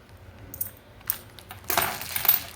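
Metal commemorative coins, RBI issues, being handled and shuffled, giving a few soft clinks early on and a denser burst of jingling and clattering near the end, close and fairly quiet with no talk.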